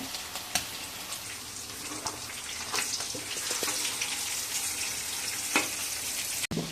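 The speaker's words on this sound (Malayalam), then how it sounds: "ചെറിയ രീതിയിലാണ് പൊരിക്കുന്നത്" Chicken frying lightly in a pan for a chicken roast, a soft continuous sizzle with occasional sharper pops and crackles, fairly close and quiet, with no voices.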